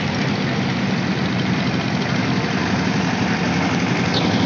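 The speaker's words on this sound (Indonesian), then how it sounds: "lebih baik kita milih naik ojek motor lagi aja lah" Motorcycle taxi (ojek) engine idling near a flooded village route, a steady, close, continuous low rumble with mechanical vibration and no talk.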